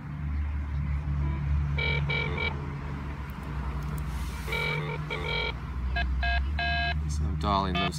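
Short bursts of telephone keypad dialing tones from Iridium 9555 and Inmarsat BGAN satellite phones, several quick tone sequences in clusters over a steady background hum, ending in a rapid run of tones.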